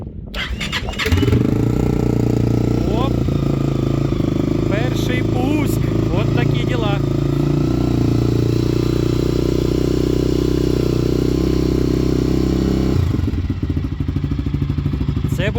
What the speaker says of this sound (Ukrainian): Отак от з заводу китайський мотоцикл ляп і запускається.